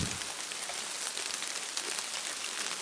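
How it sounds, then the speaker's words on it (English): Steady rain falls throughout, a dense, even hiss of drops on surfaces, close and continuous with no talk over it. "It's pretty rainy over here."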